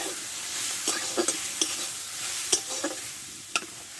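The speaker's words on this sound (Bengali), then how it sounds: "এইবার ভেজে রাখা আলু আর মুগ ডালটা আমি এর মধ্যে দিয়ে দেবো" Fried potatoes and mung dal go into a sizzling pan with cumin for a Bengali taro leaf dish. A bright, steady frying hiss runs throughout, broken by several sharp clinks and scrapes of the spatula, with no talking.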